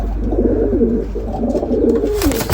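Pigeons coo in a breeding coop, soft low throaty warbles repeating close by in a steady loop, with a faint rustle near the end.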